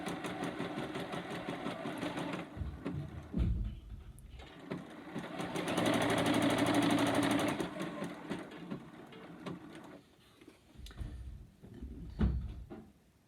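A sewing machine stitches elastic onto leotard fabric in quiet, rapid mechanical bursts, whirring in several runs of varying length with brief pauses and soft handling noises between them.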